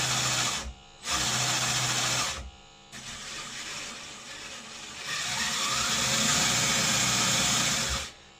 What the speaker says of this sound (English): And you can hear that little fan in there.